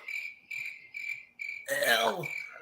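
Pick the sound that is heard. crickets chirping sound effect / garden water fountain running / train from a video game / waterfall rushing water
crickets chirping sound effect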